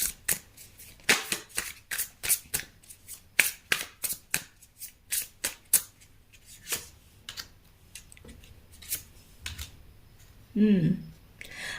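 Tarot cards are shuffled up close in quick, crisp riffling bursts, a long run of sharp snapping flutters with short pauses between them, and a brief voice sounds near the end.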